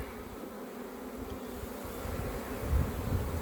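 Honey bees buzz in and around an apiary hive, making a soft, continuous drone that swells slightly toward the end. No voices are heard.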